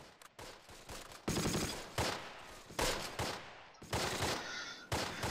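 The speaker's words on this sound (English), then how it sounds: "Is the MG firing here somewhere?" Machine gun fire in the WWII strategy game Close Combat: The Longest Day, coming in repeated loud bursts separated by short gaps, crisp and close with no talk.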